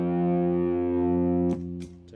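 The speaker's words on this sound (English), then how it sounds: "Take off all my crazy distortion" A sustained electric guitar chord rings with heavy distortion and effects, thick and buzzing, then is cut short by a few clicks and scrapes as the sound drops away.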